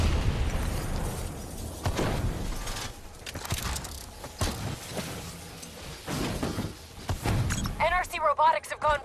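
Rogue robots blow up in the Call of Duty Black Ops 3 campaign, heavy booming bursts and pops rolling through a dense game mix, with a voice calling out partway and electronic beeping tones near the end.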